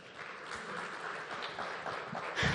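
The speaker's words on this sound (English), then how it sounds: "A big round of applause." Audience applause at the India Today Conclave South 2023, a steady wash of clapping from a seated crowd, moderately loud and even throughout, swelling slightly at the very end.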